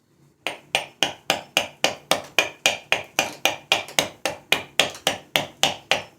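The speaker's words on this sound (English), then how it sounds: "this adze is going to really help out a lot with a lot of stock removal" An adze chopping stock away from a walnut block for a kuksa cup, about eighteen sharp, evenly spaced woody strikes, each loud and close with a quick decay, and no talk.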